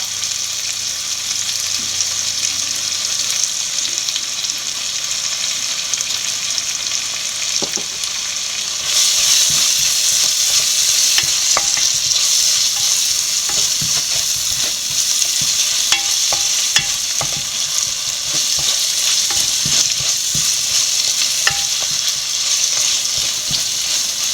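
Turmeric and crushed chilli being sautéed in a pan for Kerala sardine curry, a continuous close sizzle that grows louder partway through, with scattered ticks and scrapes of stirring and no talk.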